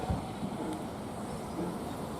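A steam train, a Black Five locomotive, rumbles steadily nearby while reversing, a low continuous mechanical rolling with a faint clank near the start.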